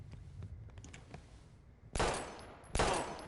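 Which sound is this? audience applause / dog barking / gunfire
gunfire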